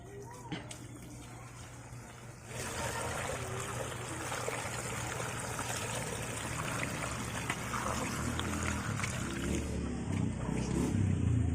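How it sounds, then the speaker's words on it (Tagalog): Water pours into a pot for boiling young bananas, a continuous close trickling and splashing that grows fuller after a short start and runs steadily under faint background sound. "Maglagay tayo ng tubig."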